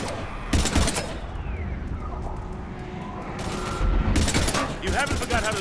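Bursts of gunfire ring out in the Mass Effect Legendary Edition video game during a firefight with husks, loud clustered volleys at the start and again near the end, with game dialogue and shouting between them.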